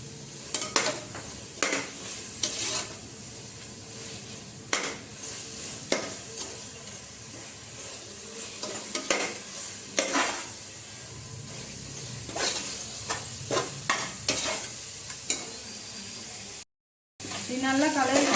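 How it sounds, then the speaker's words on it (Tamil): Chicken biryani masala frying in a pan, stirred continuously: a steady sizzle with repeated rhythmic scraping strokes of a utensil against the pan, close and prominent, with a brief dropout near the end. "ஒரு 3 நிமிஷம் கலரிட்டே இருங்க."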